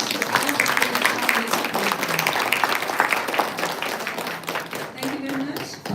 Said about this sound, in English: Please give a big round of applause to all the